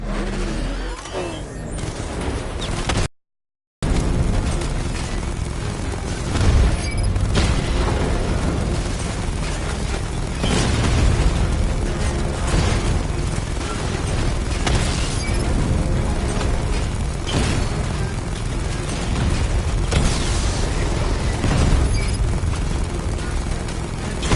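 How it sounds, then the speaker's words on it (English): A 60mm cannon fires in a Batman: Arkham Knight battle against heavily armored units in Gotham, with a dense, loud run of booming shots, bursts and explosions and scattered impacts. "Your 60mm cannon will penetrate these heavily armored units, but it'll take a few direct hits to destroy them."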